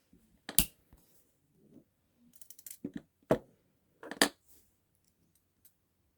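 Thin jewelry wire is snipped with cutters while shaping a wire wrap pendant, giving several sharp, close, isolated clicks spaced a second or so apart with quiet handling sounds between them.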